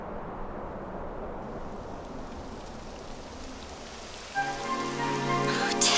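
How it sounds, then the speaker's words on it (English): Rain falls steadily in the video game Dragon Quest XI as a soft, even hiss of drops on surfaces. Near the end a tonal musical phrase rises over it. "It would have to go and start raining, wouldn't it?"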